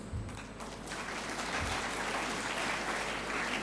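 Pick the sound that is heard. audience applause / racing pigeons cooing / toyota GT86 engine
audience applause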